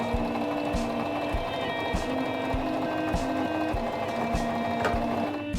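A Singer mechanical sewing machine stitches a seam, with a rapid, regular mechanical clatter of needle strokes and a steady motor hum running continuously at close range.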